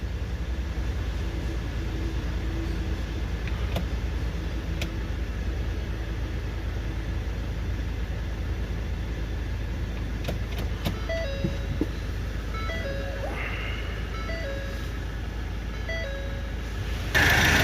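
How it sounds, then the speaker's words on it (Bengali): A Ford Endeavour diesel engine idles in gear with a steady low drone and faint intermittent tones layered on top, continuous and without speech. "গাড়ির ইঞ্জিনের সাউন্ড শুনে নিন, একদম পরিষ্কার সাউন্ড আছে"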